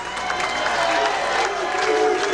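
A crowd at a 1998 professional bowling match cheers steadily, a dense wash of voices and clapping that stays loud and unbroken for the whole stretch.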